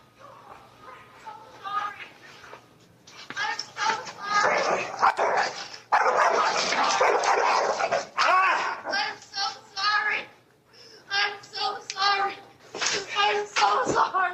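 A dog barks and whimpers from a played courtroom video while people talk loudly over it, the dog sounds mixed into steady overlapping speech.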